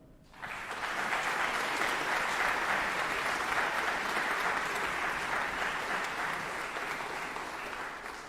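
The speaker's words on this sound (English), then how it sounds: "Please, one more time, a round of applause for our first two candidates" An audience at a classical strings competition final applauds the first two candidates, cellist included, with steady, full clapping that fills the hall for several seconds and tapers slightly at the end.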